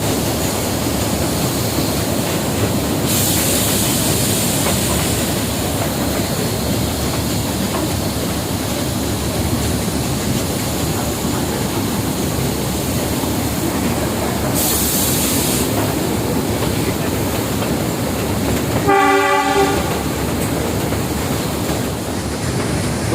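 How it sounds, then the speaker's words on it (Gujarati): The Matheran toy train rumbles steadily through the hills with constant broadband noise throughout, and a brief horn-like tonal blast sounds near the end. "દોસ્તો કહેવાય પહાડોમાંથી પણ ટ્રેન ચાલે છે"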